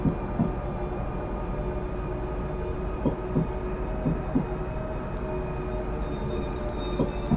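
A tram in Frankfurt Tram Simulator starts and runs with a steady low rumble and rolling hum, broken by soft periodic rail clicks and thumps, close and continuous with no talk.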